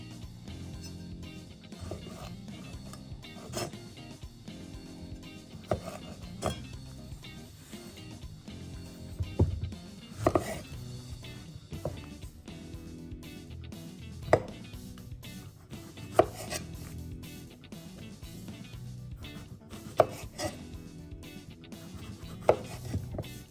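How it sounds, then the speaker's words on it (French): Knife cutting cherry tomatoes in half and slicing very thin courgette rounds on a board, a soft steady patter of cuts broken by a few sharper taps, close and fairly quiet, with no talking. "Je coupe les tomates cerises en 2 et je prépare quelques rondelles très fines de courgettes"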